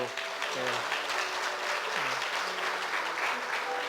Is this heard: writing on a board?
no